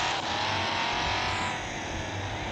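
A Lamborghini Sian engine in a driving video game, a steady droning hum with a faint rising whine, no talk over it.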